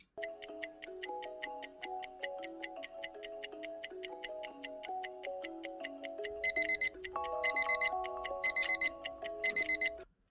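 A countdown clock ticking steadily and evenly over a simple melodic timer tune, with louder alarm-like beeping bursts joining in near the end.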